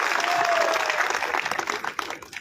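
A crowd at a BJP farmers' conference breaks into applause, a full burst of clapping that starts strong, then thins into scattered individual claps as it dies away, with a faint tonal whine briefly early on.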